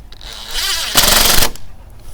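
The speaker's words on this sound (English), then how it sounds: "Tighten it down with some little bit longer screws." A power driver drives longer screws into a keyed door knob on a wooden fence, giving a loud, close whirring burst of about half a second that rises and then stops abruptly.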